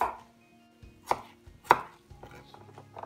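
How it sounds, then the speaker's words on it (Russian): A knife chops garlic on a board into several pieces lengthwise, with a few sharp, separate cuts spaced apart and no talk. "Его просто разрезаем на несколько кусочков."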